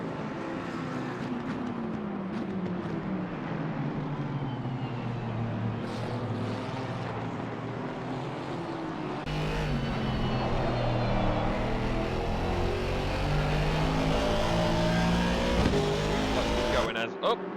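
Race cars in an endurance series round at Indianapolis fight for position, their engines whining and sweeping through the gears, one pass rising louder midway. An excited commentator talks over the engines.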